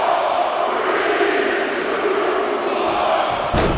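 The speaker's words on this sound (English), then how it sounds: "The crowd is counting it down." A large wrestling crowd at a War Games match roars continuously in dense, loud cheering, with a sharp impact near the end.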